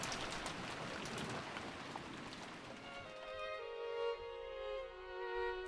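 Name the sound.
rain pouring in video game Umineko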